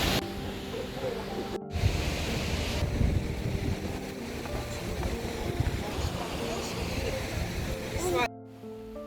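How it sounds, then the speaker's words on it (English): Rushing water at Ahvenkoski waterfall in Karelia, a broad continuous roar close by with steady wind-like hiss, briefly interrupted by edits. "The sound of rushing water"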